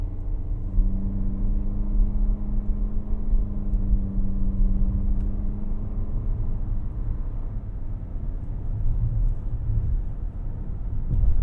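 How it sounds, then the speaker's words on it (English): A 2024 Lexus TX 350 engine pulls steadily up a steep hill, a continuous close droning hum with a slightly buzzy tone and a low rumble that holds steady for the whole stretch, with no talking. "The engine does sound a little bit buzzy, but it's not that loud in person."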